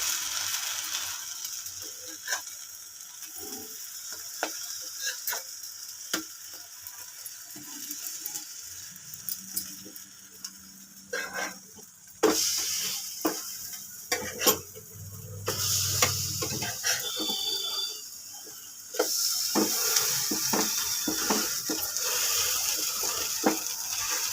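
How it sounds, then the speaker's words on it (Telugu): Mini pesarattu, mung bean dosas, fry on a pan with a soft continuous sizzle broken by scattered clicks and scraping taps from a spatula, rising louder in the later part. "ఇలా ఒకవైపు కాలిన తర్వాత రెండో వైపు తరిగేసుకోవాలి"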